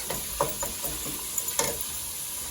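Food fries in a pan before garlic pepper and Creole seasoning are added, with a steady close sizzle and hiss broken by soft scraping stir sounds and a few light knocks, and no voices.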